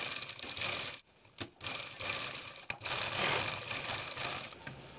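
A sewing machine stitches a neck pattern on fabric with a steady close whirring rattle, pausing briefly twice before running on continuously.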